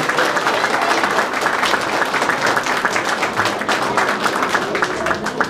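Steady applause from a crowd fills the whole stretch, dense clapping without pause, with no one speaking over it, at a medal and diploma ceremony for blood donors during a town fair.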